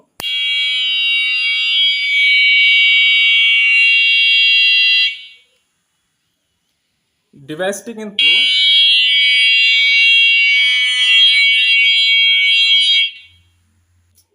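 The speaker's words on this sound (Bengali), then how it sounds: "তো দুইবার অ্যালার্ম বাজছে আর আরেকবার অ্যালার্ম বাজলেই" A loud, shrill electronic alarm from a cattle anti-theft device blares for about five seconds, stops while a voice speaks briefly, then blares again for another five seconds.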